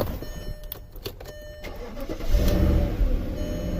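A 2001 Audi A8L 4.2 Quattro that is out of gas cranks without starting: a close mechanical whirring with clicks, which grows louder and rougher partway through and continues to the end.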